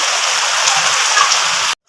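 Rain falls steadily in a village, a loud continuous hiss of water that ends abruptly.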